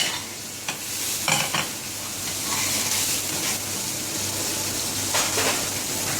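Spoon stirring fine chili powder into tomato sauce frying in a pan for Egyptian koshary, a steady close sizzle with several scraping stirs scattered through, no voices.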